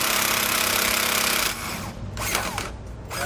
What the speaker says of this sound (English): We're going to use the 13/16 socket to remove the two lower bolts located here